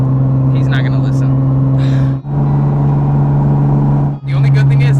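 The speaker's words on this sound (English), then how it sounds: "this car's so loud" A loud, steady Nissan 370Z turbo engine drone with strong low hum fills the clip continuously, with two brief dips, heard from inside the car.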